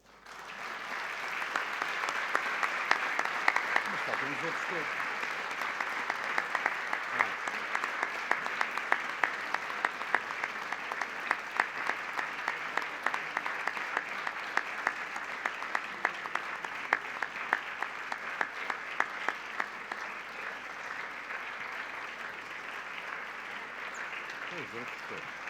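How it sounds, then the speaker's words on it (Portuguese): Audience at a science gala applauds the award winners in a long, steady round of clapping, moderately distant in a hall, while a presenter speaks briefly over it. "Fica então um aplauso final aos premiados."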